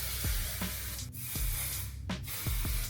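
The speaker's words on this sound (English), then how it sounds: "So I'm gonna hit it with some hairspray." Sexy Hair Big Spray and Play hairspray released in short pressurized spurts, a steady airy hiss broken by a few sharp bursts, close to the microphone with no talking.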